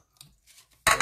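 Scissors snipping through card paper for a criss cross card, a few soft blade closes and then a louder, rougher cut near the end, close up with no talking.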